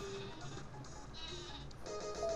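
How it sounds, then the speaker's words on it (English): A cartoonish sheep bleat from the Sleepy Sheep item in the Paper Mario video game, a short wavering bleat heard alone alongside game sound effects and music. "I'm going to use a sleepy sheep for the first time."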